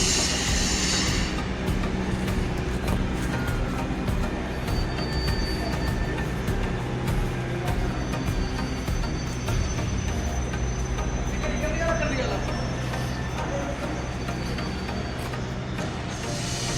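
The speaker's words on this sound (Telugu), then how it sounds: "ఒకసారి మనం ట్రైన్ కూడా ఎక్కాలండి." A train at a large Hyderabad railway station rumbles and rattles steadily, with rhythmic clatter of wagons over the rails and a faint squeal partway through, heard at a moderate distance.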